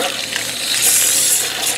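Pressurized water gushing and hissing steadily through a Ford 351 engine block during a flush, a loud, continuous close-up rush with a brief swell partway through.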